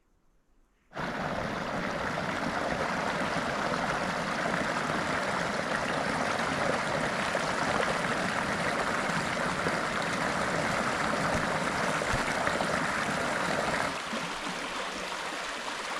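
Locust Creek flows through eastern hemlock woods in Locust Lake State Park near Barnesville, Pennsylvania; after a moment of near silence, a steady, close rush of running water sets in and continues evenly.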